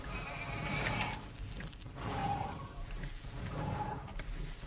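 Sheep in the video game Guild Wars 2 bleat several times, each bleat wavering and fairly faint over a busy game backdrop of low rumbles and scattered effects.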